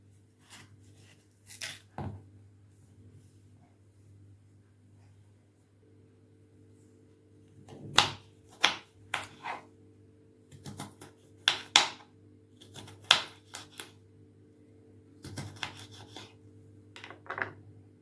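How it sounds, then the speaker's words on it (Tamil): A knife cuts raw mango into small pieces for pickle, giving sparse, close scraping and chopping sounds in short clusters with quiet gaps between them. "இப்போது சின்ன சின்ன பீஸாக கட் பண்ணி எடுத்துக்கலாம்."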